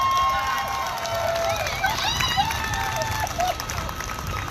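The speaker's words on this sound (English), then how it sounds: "Big round of applause for Ana." Crowd applause and cheering for a performer at the Lights for Liberty protest in downtown El Paso, Texas, a steady wash of clapping with scattered whistles and shouts throughout, outdoors.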